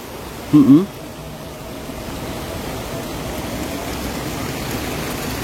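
The Citarik river flows as a steady, broadband rush of water heard from the opposite bank, with a brief voice-like sound near the start.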